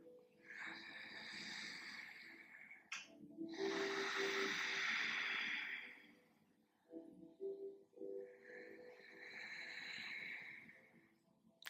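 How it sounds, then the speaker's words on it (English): Ujjayi ocean breath, a slow snore-like throat breathing in long hissing inhales and exhales with brief pauses between, quiet and close, during a hatha yoga class. "They call it ocean breath as well, because it sounds like the ocean."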